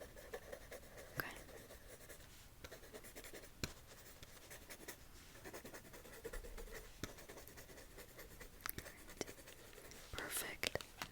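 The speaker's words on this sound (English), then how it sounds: "And I'll write them down." A pen scratches across paper in quiet, intimate strokes with a few sharper taps, close and soft, while faint whispering drifts in and out.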